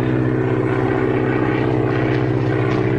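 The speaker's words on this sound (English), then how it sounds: "Spotted plane with smoke attachment." A propeller airplane fitted with a smoke attachment flies over a meadow, its engine a loud, steady droning hum that holds evenly throughout with no voices.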